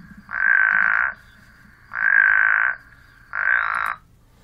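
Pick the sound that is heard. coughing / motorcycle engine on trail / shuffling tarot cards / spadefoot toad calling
spadefoot toad calling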